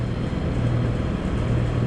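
A Honda VTX 1300 motorcycle engine idles steadily with a dirty carburetor, a low continuous rumbling drone heard close up with no talk.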